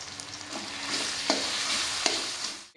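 Roasted coconut and onion paste stirred into a frying masala, a steady sizzle punctuated by three or four spoon scrapes at regular intervals, ending abruptly.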